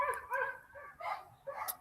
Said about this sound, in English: There's a few big dogs down here, and I don't know them.